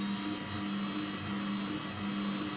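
A Philips Viva/Avance pasta maker hums steadily while kneading dough, a constant motor drone with a low tonal whine and faint rhythmic churning, close and unbroken.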